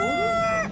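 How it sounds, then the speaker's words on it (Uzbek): A rooster at the Yozyovon poultry market in Fergana gives a single loud, close crow that ends abruptly in under a second. "Xo'rozim 100 ming so'm ekan"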